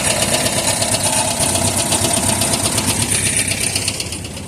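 An original engine runs on a Massey Ferguson 30 tractor inside a garage, a steady close idle with a rapid mechanical chatter that holds level and eases slightly at the very end.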